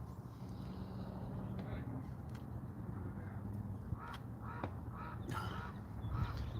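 Outdoor ambience with distant crows cawing and other birds calling intermittently over a steady low rumble, faint and far off.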